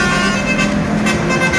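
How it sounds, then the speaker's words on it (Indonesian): An intercity, interprovincial bus on Jalan Satria in Grogol Petamburan, Jakarta, sounds its musical telolet horn: a loud, sustained, multi-tone blare heard up close amid traffic noise. "pengemudi bus antar kota antar provinsi yang kedapatan membunyikan klakson telolet"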